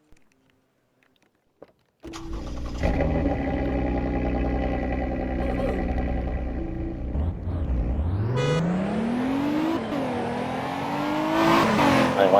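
A Lotus Emira sports car in the Roblox game Greenville starts and runs loudly, its engine holding a steady note before a rising, sweeping rev climbs and repeats, close and continuous with no talk.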